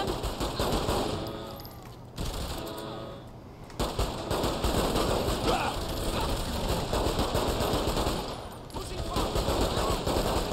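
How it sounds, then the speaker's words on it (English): Rapid bursts of pistol fire aimed at enemies in Saints Row The Third Remastered, dense and loud, with only brief pauses between volleys over steady game noise. "these pistols just have a much higher fire rate"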